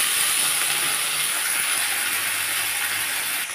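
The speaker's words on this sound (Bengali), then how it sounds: "এই সবজিটাকে আমি এবার ভেজে নেব।" Potatoes, peas and beans frying in a pan give off a loud, close, steady hiss and sizzle that holds without a break and eases slightly at the very end, with no voices.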